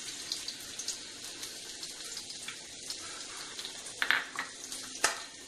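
Green chillies frying in hot oil in a home kitchen, a soft continuous sizzle with faint crackles and a couple of sharper spits near the end, fairly quiet and heard alone without talk.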